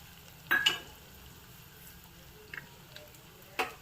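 Grated coconut and sesame seeds roast in a pan with fried dal for papaya seed chutney. A low, even hiss is broken by a few scattered scrapes and clicks of stirring.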